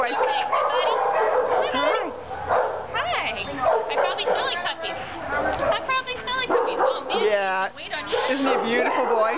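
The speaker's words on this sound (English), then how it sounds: "I don't know any Great Dane that likes other dogs barking at them." Several dogs bark and yip at a shelter in California, repeated sharp barks mixed with whines and whimpers coming close and fairly loud, overlapping with people talking nearby.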